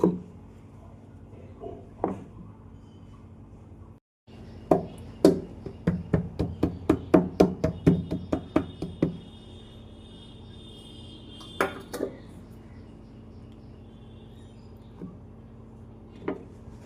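A knife slices through homemade Bengali sandesh sweet in a home kitchen, giving a quick series of sharp, close taps and clicks against the plate, with a few isolated knocks before and after.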